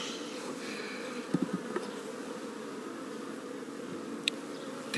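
Honeybees buzz around an open top bar hive from a calm colony, a faint steady hum close by with a few brief louder buzzes as single bees pass near, and no talk.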